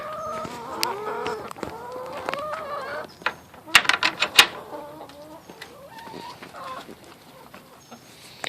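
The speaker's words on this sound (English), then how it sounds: "So here we are at my chicken coop. Look at my girls." Eleven hens clucking at a backyard coop while they eat almond pulp, a busy flock of soft clucks and calls with a burst of louder squawks midway, close to the listener.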